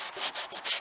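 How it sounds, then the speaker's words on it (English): A cloth rubbing tape residue off the original finish of a 1965 Lane Acclaim wooden table with mineral spirits, four quick swishing strokes back and forth, close and soft, no talk. "putting some mineral spirits, which is an oil solvent, on the tape residue and then gently rubbing it"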